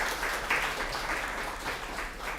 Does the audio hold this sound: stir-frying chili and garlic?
no